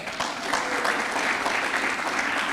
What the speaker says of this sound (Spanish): yo quiero que les regalemos un fuerte aplauso a todas las madres que se encuentran en este lugar